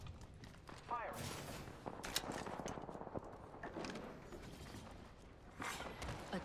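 Rapid bursts of video game gunfire from a battle royale match with Mirage as the character, crackling in clustered volleys with mechanical clicks between them, fairly loud and dense across the whole stretch, with a voice talking over parts of it.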